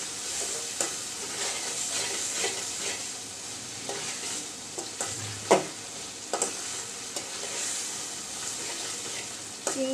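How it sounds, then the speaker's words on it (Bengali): Red lentils and shrimp frying in oil in a pan, a continuous close sizzle with a spoon scraping and stirring through it and a few sharper clinks, no talking. "চিংড়ি মাছ সহ মসুর ডাল তেলের মধ্যে একটু ভালো করে কষিয়ে নিচ্ছি।"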